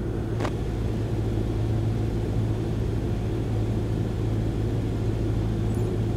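Small single-engine aircraft in Microsoft Flight Simulator held at 1400 RPM on approach, a steady droning engine rumble throughout with a brief click near the start.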